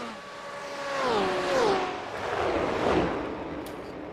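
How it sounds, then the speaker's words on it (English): BMW race cars dueling in a night racing sim at Daytona International Speedway, engines whining and shifting through rising and falling tones, loud and close, with a second car's drone layered underneath. "Two BMWs going at it right now."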